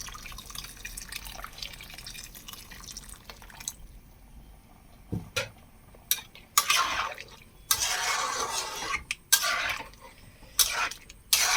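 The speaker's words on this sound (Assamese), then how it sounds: "এতিয়া মই অকণমান গৰম পানী উতলাই থৈছিলোঁ গৰম পানীখিনি ইয়াত দিলোঁ" Hot water is poured into a pot of goat meat curry, with a steady splashing flow in bursts and intermittent drips and clinks, close and moderately loud with no talk.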